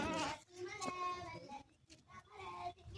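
Young goats on a village farm give wavering bleats, several overlapping cries close by, mixed with voices talking.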